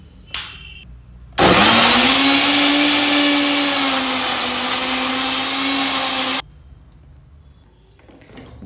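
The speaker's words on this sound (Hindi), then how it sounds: "अब हम इसको मिक्सी को चलाएंगे और इसका एक फाइन पेस्ट बनाएंगे।" A mixer grinder blending a yogurt paste whirs loudly and steadily for about five seconds, then stops abruptly, leaving quiet clinks before and after.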